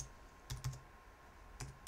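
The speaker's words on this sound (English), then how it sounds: "I can just type in the word logo" Short bursts of keystrokes on a computer keyboard, a couple of quick clicks, then a pause and two more taps, close and quiet with no talking.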